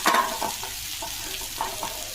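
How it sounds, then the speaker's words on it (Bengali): Soaked, boiled soybean chunks with garam masala are fried and stirred in a pan, a soft close sizzle with scraping stir strokes near the start and a few more at intervals. "ভাজা হোক সয়াবিনটা।"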